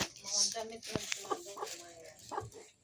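Chicken clucks and rooster-like calls come in short bursts close by, mixed with a person talking over the birds.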